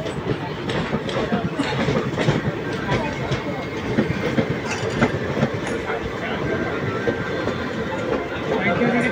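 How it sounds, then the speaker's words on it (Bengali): The Kanchanjunga Express on its first LHB run pulls out of Sainthia station, a steady rolling rumble and rhythmic wheel clatter filling the scene, with voices faintly mixed into the background noise. "সাঁইথিয়া থেকে ট্রেন ছেড়ে বেরোচ্ছে আর উল্টো দিকে সাঁইথিয়া স্কিপ করছে তেভাগা এক্সপ্রেস"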